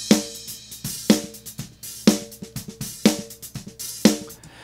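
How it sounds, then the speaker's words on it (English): A snare drum recorded with only a top mic, played alone in a steady beat: sharp, ringing cracks about once per second, each followed by a few softer ghost hits, close and dry. "The snare drum sounds like this by itself."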